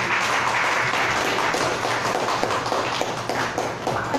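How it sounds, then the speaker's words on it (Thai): Audience applause at a Thai seminar on the constitution and the welfare state, a steady dense wash of clapping from a full room, fairly loud and continuous throughout with no talk over it. "เสียงปรบมืออีกครั้งหนึ่งให้วิทยากรทั้ง4ท่านนะคะ"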